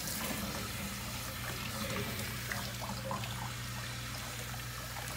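Water pours steadily and continuously, rinsing a chihuahua during a bath, a close, even splashing flow with no voices over it.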